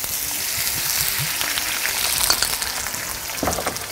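Sliced onions frying in a little oil in a pan, a steady close sizzle with soft stirring scrapes throughout, no talking.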